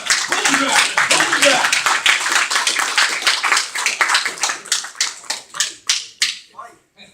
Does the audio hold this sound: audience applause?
yes